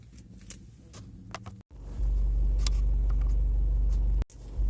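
A car is driven and pulled up on arrival: a low engine and road rumble that grows heavier and steady, broken by two brief dropouts, fairly close with no talk.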